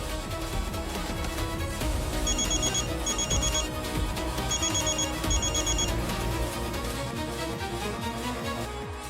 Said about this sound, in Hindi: विक्रम, तुम मेरा फोन क्यों नहीं उठा रहे थे?